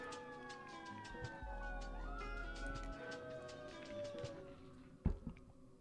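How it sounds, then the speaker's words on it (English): An emergency siren from a fire truck or ambulance passes at a distance on a street, its steady wailing tones rising and falling over a low traffic hum, with a brief thump near the end. "We'll let that fire truck pass really quick,"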